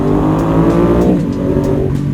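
A loud Ducati Diavel 1260 motorcycle engine revs close by next to a wall, holding a rough, throaty drone that drops in pitch partway through, with no voices.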